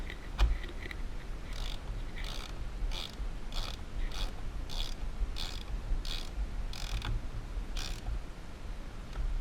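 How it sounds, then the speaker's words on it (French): A 13 mm wrench ratchets a fitting tight on a scooter's high-mount exhaust, about a dozen evenly spaced close clicking strokes over a low steady background. "On va commencer à visser."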